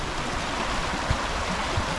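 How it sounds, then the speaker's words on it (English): Water from a stream rushes in a steady broadband flow near a walking path in the Kelpies area, close and continuous with no voices. "I can hear more water."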